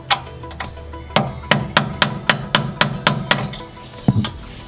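A dull awl hammered against a rear toe bolt on a Nissan 350Z, about a dozen sharp metallic taps in a fairly even rhythm, close and loud, with a final heavier knock and no talking.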